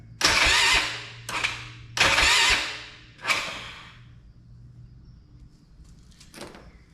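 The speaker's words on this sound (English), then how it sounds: "it cranks a little slow because the battery's dead" A Polaris Sportsman 500 ATV on a weak, dead battery cranks slowly after a top-end rebuild, giving four loud grinding cranking bursts in quick succession, then near quiet with a faint final turn.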